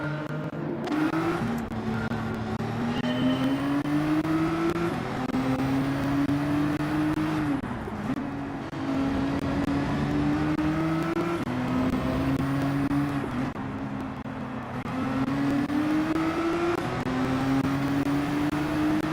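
Race cars in the Gran Turismo 7 video game give a continuous engine roar that rises and falls with gear shifts, with brief dips as the cars brake, steady and loud.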